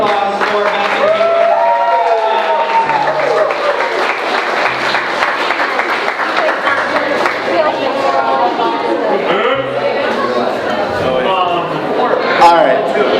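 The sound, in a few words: wedding guests applauding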